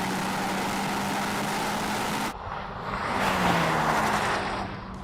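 BMW M2 CS launching in a drag race, a steady loud engine roar that briefly dips as it shifts, then swells again as the car pulls away.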